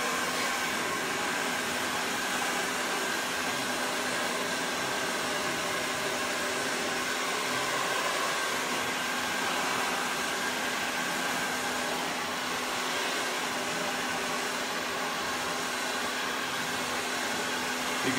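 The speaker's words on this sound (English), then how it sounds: "So you just love professional hair dryers." A professional hair dryer blows steadily and loudly for the whole stretch, a constant close rushing airflow with a faint motor whine and no voices.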